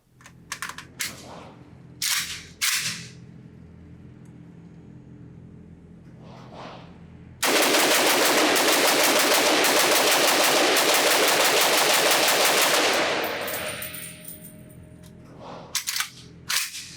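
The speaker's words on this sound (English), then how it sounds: "I'm just going to pull this trigger as fast as I possibly can with the bipod deployed and from the bench" Rapid semi-automatic fire from a Century Arms AES-10B2, a Romanian RPK-style rifle in 7.62x39 shot from a bench on its bipod: a few single shots, then a long dense burst of loud, fast reports lasting several seconds, followed by a few final shots.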